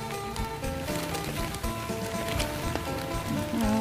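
Rain falling steadily outdoors during mushroom picking near a weir, a dense continuous patter with scattered droplet ticks at moderate level and no speech.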